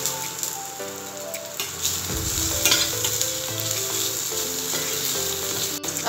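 Onion and ginger frying in a pan for an Indian-style white sauce pasta, a steady close sizzle with occasional stirring scrapes, no talking.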